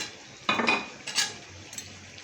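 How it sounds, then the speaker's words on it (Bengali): Pieces of fried fish go into a pot of potatoes and Malabar spinach with a soft clatter and scrape, two short bursts of utensil-on-pot noise close by, no voices. "এখন আমি মাছগুলো দিয়ে দেব"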